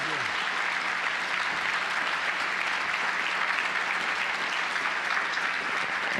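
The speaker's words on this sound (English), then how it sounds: "Can you give a round of applause to our esteemed panel?" A room full of people applauds a panel discussion at a 2018 event on politics, the economy and trade, producing steady, dense clapping that holds evenly for about six seconds with no voices on top.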